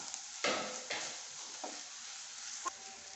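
A chicken bun filling with chopped green chillies is stirred in a hot pan, with a soft sizzle under a few close scraping strokes of the spoon.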